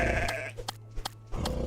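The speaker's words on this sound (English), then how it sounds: "A sheep. Sheep means wool." Sheep in the pixel video game Squarelands bleating several times in short, clear bursts, alone with no talk and with brief gaps of near-silence between calls.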